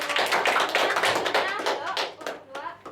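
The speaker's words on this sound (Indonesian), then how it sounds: "Beri aplaus buat kelompok 1" A classroom group gives round after round of hand clapping, a dense patter of claps that starts strong and thins out toward the end, with children's voices mixed in.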